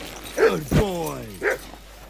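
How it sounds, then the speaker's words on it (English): A dog in the medieval video game Kingdom Come: Deliverance II gives a couple of short yelps and a whimpering bark, moderately close, over a soft ambient background with no talking. "Good doggy. Good boy."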